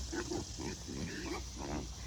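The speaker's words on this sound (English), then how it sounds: "They're excited because Mike's coming with their feed." Excited pigs waiting for their feed on a farm, a run of short grunts and squeals close by in quick irregular bursts, with a voice talking alongside.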